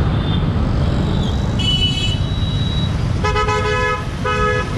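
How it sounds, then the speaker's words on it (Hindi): Dense, loud road traffic roars continuously while car horns honk in several separate bursts, some short toots and some longer blasts, close by. "ट्रैफिक हमेशा की तरह मिलती हुई हमसे, ये हमारा पीछा कभी नहीं छोड़ी।"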